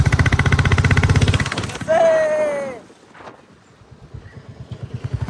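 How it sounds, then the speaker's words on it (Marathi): A motorcycle on a ride to Jaibai Devi temple throbs with rapid, regular engine pulses up close, breaks off while a voice speaks, then its pulsing returns more quietly. "आज आपण 2 व्हीलरवरती चाललोय. आवाज ऐका आवाज."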